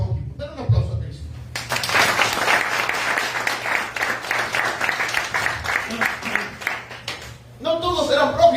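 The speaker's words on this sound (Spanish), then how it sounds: "Den un aplauso a Cristo." Applause from a church congregation during a sermon, a dense wash of clapping that builds quickly and holds steady for several seconds before fading, with a voice speaking briefly before and after.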